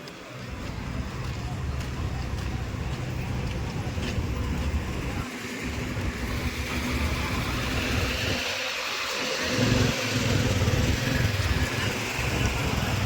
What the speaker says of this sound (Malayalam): ഇവിടെ അത്യാവശ്യം ബസ്സുകളും അത്യാവശ്യം ആൾക്കാരും തിരക്കും ബഹളവും എല്ലാം ഉണ്ട് കേട്ടോ.